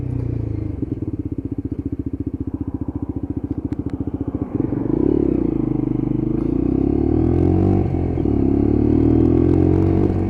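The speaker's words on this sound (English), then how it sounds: "Down through the gearbox we go." A Lexmoto LXR SE 125cc motorcycle drops down through its gearbox on a road ride, its engine note pulsing steadily and then rising and falling with each shift under steady wind rush.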